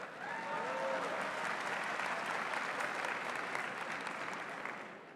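Audience applause in a hall at a University of Houston Bauer College of Business fall convocation, a broad sustained roar of many hands clapping that swells quickly and holds steady before tapering slightly, with a faint voice briefly audible early on.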